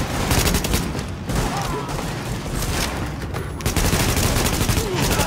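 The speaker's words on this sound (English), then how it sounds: "The escort party's taking heavy fire from the roof." Dense, continuous gunfire from The Division rattles loud and close, overlapping bursts of automatic fire and shots forming a relentless fusillade throughout.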